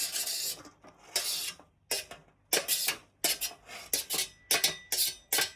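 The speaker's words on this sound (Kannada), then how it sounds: "ಅದಾದಮೇಲೆ ಹೆಚ್ಕೊಂಡಿದ್ದಂಥ ಈರುಳ್ಳಿ ಹಾಕ್ತಾ ಇದ್ದೀನಿ" Chopped onion tumbles into a bowl of carrot, cucumber and tomato, heard as a quick series of close, crisp clinks and scraping taps of a spoon against the dish, fairly quiet and with no voices.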